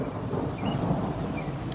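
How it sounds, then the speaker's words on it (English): Thunder rolls through a rainstorm as a dense, continuous low rumble over steady rain hiss, loud and sustained throughout. "to see and hear the thunder and lightning."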